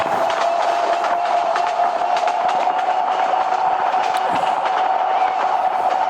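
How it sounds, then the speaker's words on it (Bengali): In the Train Simulator Bangladesh game, another train rushes past right alongside, a loud continuous rolling roar with a steady tonal hum and faint clacking throughout. "আরেকটা ট্রেন আমাদের কাছ থেকে, আমার একদম জাস্ট পাশ থেকে চলে গেল"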